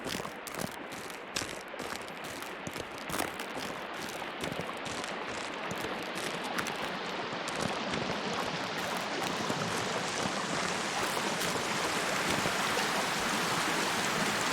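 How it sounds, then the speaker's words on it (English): A steady rushing of falling water from a waterfall in the video game Sons of the Forest, a continuous broad wash of splashing that grows slightly fuller over time, with scattered sharp clicks early on. "I hear a waterfall."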